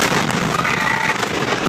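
The fertilizer plant explosion in West Texas erupts as a loud, dense roar that fills the air without a break, heavy and close throughout.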